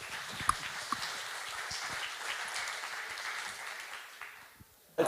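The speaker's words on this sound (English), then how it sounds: "And a bit of applause, come on!" Audience applause at a P2P lending conference in 2019, a steady wash of clapping from a crowd that holds for about four seconds, then fades before a brief loud burst at the end.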